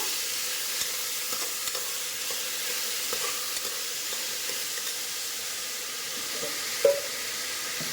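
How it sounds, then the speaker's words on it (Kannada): Spices and turmeric sizzling in hot oil for a sambar tempering, a soft constant hiss with light crackles and a brief utensil clink near the end. "ಚೆನ್ನಾಗಿ ಒಗ್ಗರಣೆ ಮಾಡೋಣ"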